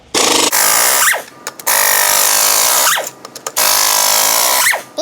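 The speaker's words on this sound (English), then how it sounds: "I can count the impacts in the gun." A pneumatic impact gun hammers at over-tightened wheel lug nuts on a Cadillac SRX 3.6 in three loud, close, rattling bursts, each separated by a short pause.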